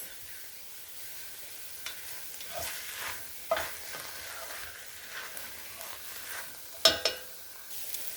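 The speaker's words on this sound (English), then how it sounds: "we're going to add in our garlic here. We're going to let that cook for a little bit" Garlic cooking in a soup pot for split pea soup, giving a quiet, continuous sizzle with scattered spoon taps and scrapes, one sharper knock near the end.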